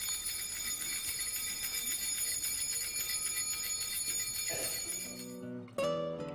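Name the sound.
altar bell ringing during Mass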